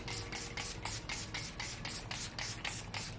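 Repeated short bursts of setting spray misted onto a face during makeup, about a dozen quick, close hissing pumps in a steady rhythm, alone without talk.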